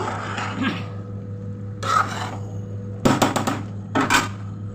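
Lentils and rice being stirred with spices in a metal pot for mutton khichuri, with scraping and clanking spoon strokes in bursts and a quick rattling flurry near the end, over a steady background hum.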